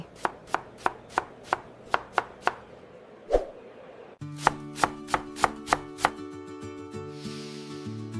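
A knife chops onion into strips on a board in quick, evenly spaced crisp taps, about eight strokes, a brief pause, then another run of chops over faint background music.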